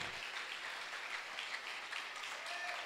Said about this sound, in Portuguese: Agora pode aplaudir o nome do Senhor.